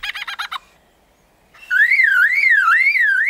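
A lyrebird imitates a car alarm, first finishing a few quick cackling notes, then after a brief silence launching into a loud, steady, wavering electronic-style siren tone that rises and falls repeatedly.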